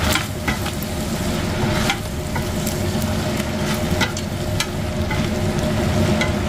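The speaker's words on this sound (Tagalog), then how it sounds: "And then halu-haluin natin." Pork and beef dinuguan sizzles and fries in a pan while being stirred, a steady close crackle broken by repeated scraping strokes of the utensil.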